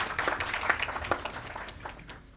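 Applause from an audience at a book event for a travel book by Babu Panicker, a steady wash of clapping hands at moderate distance, fairly quiet, with louder bursts scattered through and no talk over it.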